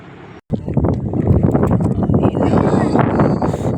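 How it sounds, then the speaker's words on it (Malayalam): Strong wind on a hilltop as light rain falls during a descent, roaring as a loud, steady broadband rush that buffets the microphone after a brief dropout at the start. "ഹായ് നല്ല കാറ്റ്"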